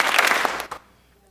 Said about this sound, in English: we're going to do a Norse clap, so that's just the 2 clap we've been doing